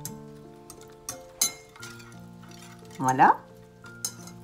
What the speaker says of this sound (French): Alors, je fouette tout ça pour bien combiner.